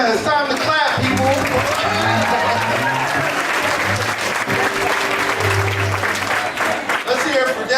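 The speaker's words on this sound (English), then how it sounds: "Yeah, it's time to clap, people." Audience applause fills a poetry night performance space, a steady, loud wash of clapping from a crowd with voices mixed in throughout.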